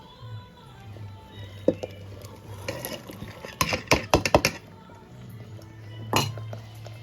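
Fried cashews and raisins being added to a pot of pongal, heard as scattered metallic clinks and scrapes of a spoon and vessel, with a quick burst of clattering in the middle, over a low background hum.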